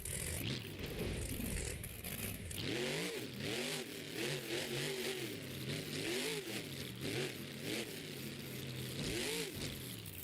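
A monster truck engine roars and revs at a Monster Jam Indy Series event in Lamar, loud and sustained with repeated rising and falling revs, heard from the stands alongside crowd and arena noise.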